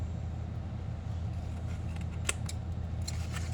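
Scissors snipping paper while trimming a junk journal cover, several faint crisp cuts in quick succession over a steady low hum.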